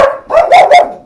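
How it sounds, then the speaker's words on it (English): A few dogs in a home bark three times in quick succession, loud and close, with no talking. "there are 3 dogs that live here."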